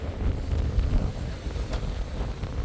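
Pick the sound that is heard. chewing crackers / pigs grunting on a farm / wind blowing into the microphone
wind blowing into the microphone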